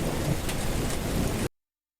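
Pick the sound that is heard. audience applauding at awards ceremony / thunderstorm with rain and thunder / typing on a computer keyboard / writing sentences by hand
thunderstorm with rain and thunder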